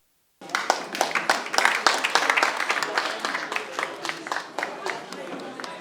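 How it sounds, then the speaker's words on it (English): Clapping from a seated audience at an electoral commission voter-education event breaks out suddenly and holds as a dense, lively patter of many hands close by, thinning slightly near the end. "Please, a round of applause for him."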